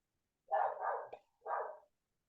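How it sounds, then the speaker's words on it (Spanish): Nearby, a dog lets out two quick barks and then a third after a brief pause, loud against otherwise quiet surroundings. "¿Quién está ladrando por ahí?"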